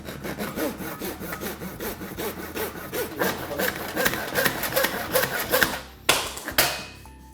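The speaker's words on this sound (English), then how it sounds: "mark where you need your cut and start to cut" A hand saw cuts through an LVT flooring plank in steady back-and-forth strokes, close and loud, with a rasping rhythm that picks up pace before the blade finishes and stops.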